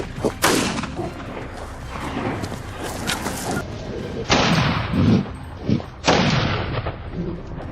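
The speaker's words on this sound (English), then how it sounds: "Without hesitation, I held my breath and took the shot." Rifle shots while hunting wild boar on a mountainside farm, several sharp cracks with rumbling echoes spread across the stretch, loud against a quieter outdoor background, with speech mixed in.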